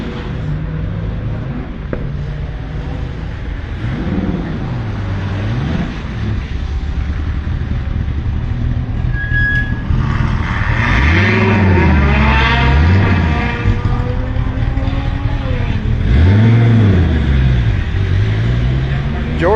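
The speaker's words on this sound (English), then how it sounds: "David's going to be next to go off in the Hellcat." A Dodge Hellcat engine revs hard on the Hallett race track, its pitch climbing and falling in repeated loud sweeps over a steady background engine drone.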